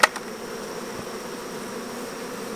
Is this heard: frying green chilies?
no